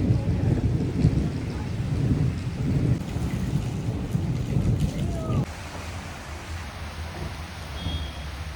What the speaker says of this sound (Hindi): भाई लो बारिश शुरू